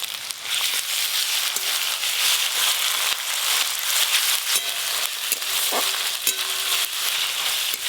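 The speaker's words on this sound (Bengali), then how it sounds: "আদা রসুন আর পেঁয়াজ কুচি একসঙ্গে ভালো করে ভেজে নিয়েছি।" Chopped onion and ginger-garlic paste sizzling in hot mustard oil, a continuous loud crackling fry with occasional sharper pops and faint stirring scrapes, close and without voices.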